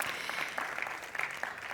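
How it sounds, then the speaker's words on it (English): Light applause from a conference audience at a luxury hospitality and urban renewal panel, scattered claps carrying on fairly faintly and evenly for a moment without talk. "a round of applause, please, to the bench and FHAs"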